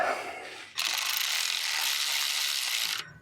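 A ratchet snugs up engine mount bolts on a 2004-2008 Ford F150 with a 4.6L or 5.4L engine, giving one continuous fast run of close clicking for about two seconds after a brief rustle.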